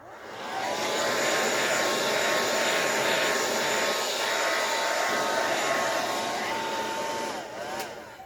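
A heat tool blows steadily and loudly over a mixed media art journal page, a continuous whirring roar that holds for several seconds before tapering off near the end.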